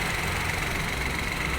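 A used car's engine idles steadily during an inspection, a continuous close rumble with faint knocking texture and no voices.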